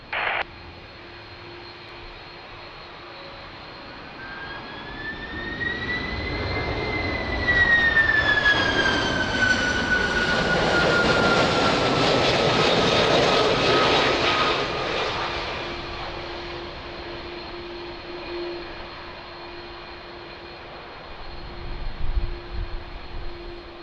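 Air Canada flight 810, a heavy jet airliner, lands at Lisbon Airport, its engine roar and whine swelling as it draws near, peaking loudly overhead, then fading into a long rumble.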